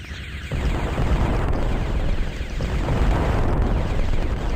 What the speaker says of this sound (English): Now we're back to our laser, which it's not really a laser,